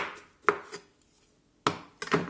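A kitchen knife slices through mushrooms on a cutting board, giving a few sharp, separate chops with short pauses between them, close and clear with no talking.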